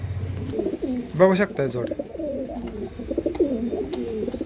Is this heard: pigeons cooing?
yes